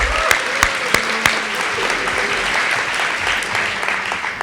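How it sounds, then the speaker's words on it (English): Applause for a coaching staff at a school fall sports awards night, steady and moderately loud throughout, with a few sharper claps and shouts standing out from the crowd. "How about a real round of applause for them?"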